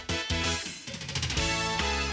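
A short musical jingle fired from an Elgato Stream Deck button, loud and continuous with layered tones and a brief dip midway, no talking over it.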